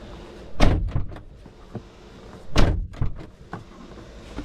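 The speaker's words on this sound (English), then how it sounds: "Close driver's door twice." A car driver's door on a Matrix XRS slams shut twice, two loud solid thunks about two seconds apart, each followed by fainter rattles and clicks, heard up close with no talking.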